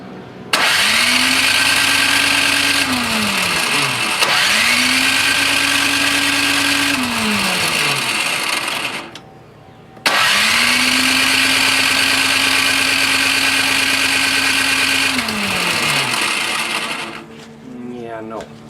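A Toro Power Clear 621E snowblower engine fires up and runs in three loud bursts, each rising in pitch, holding a steady buzzing drone, then winding down, with a short quiet gap before the last run.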